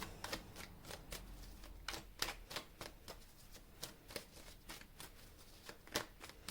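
Tarot cards being shuffled in a steady run of crisp riffling slaps and flutters, close and fairly quiet with no voices over them.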